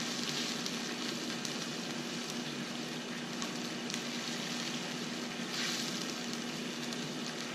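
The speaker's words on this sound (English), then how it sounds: "Let's simmer a little bit down to real consistent." Red curry beef with coconut milk bubbles gently in a pan, a soft continuous crackle and fizz with faint pops, low and steady throughout.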